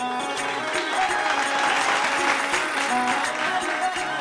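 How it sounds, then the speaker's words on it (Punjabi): Enthusiastic audience applause greets contestant Himmat Singh at a Voice Of Punjab Season 7 semi-final, a dense continuous wash of clapping from a large crowd, loud and steady throughout with music faintly underneath. "ਜ਼ੋਰਦਾਰ ਤਾੜੀਆਂ ਹਿੰਮਤ ਸਿੰਘ ਲਈ"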